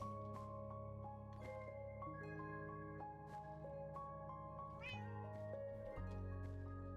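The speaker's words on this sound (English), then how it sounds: "This is Gains and Games' cats." A cat meowing in Minecraft, heard as several short, clear meows spaced across the stretch over a steady tonal music bed.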